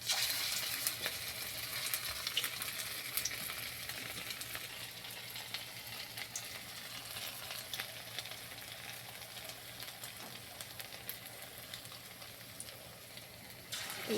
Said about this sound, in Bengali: অল্প তেলেই ভাজা হয়ে যাবে